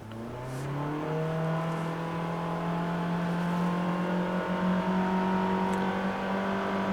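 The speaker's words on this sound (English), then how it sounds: "the CVT in this vehicle really just amplifies the noise that the 2-liter makes" A 2013 Mitsubishi Outlander Sport's 2-liter engine with a CVT drones as it accelerates, a loud, steady, rising engine whine heard from inside the cabin with no speech over it.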